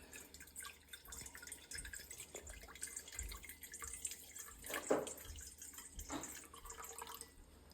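Warm water trickling and dripping into a bowl sitting on a kitchen scale while making sourdough bread, a steady close pour with small splashes and no talking.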